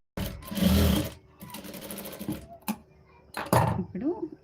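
A sewing machine stitches blouse fabric in short, rapid bursts of mechanical chatter, broken by brief pauses and softer handling noises up close.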